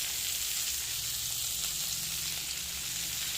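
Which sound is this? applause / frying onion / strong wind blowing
frying onion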